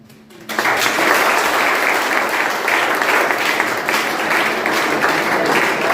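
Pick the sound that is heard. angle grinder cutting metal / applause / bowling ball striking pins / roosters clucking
applause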